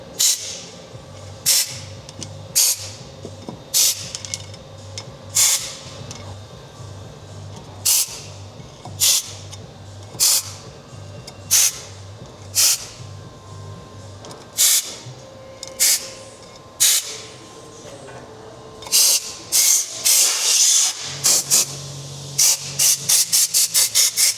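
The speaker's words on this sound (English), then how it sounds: "then blow them out of the airline so that there's no previous old pad material to affect the new brake pads" Compressed air from a workshop airline blasting old pad material out of the brake caliper holes on a Porsche GT4 RS during a pad change, heard as a series of sharp, loud hissing bursts repeating every second or so over a steady low hum.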